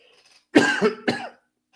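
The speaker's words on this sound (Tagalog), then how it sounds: "Sorry po mga kapatid kasi may ubo po ako." Two quick, close coughs from a man, the first harsher and longer, the second shorter, in an otherwise quiet room.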